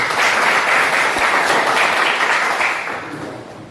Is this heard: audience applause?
yes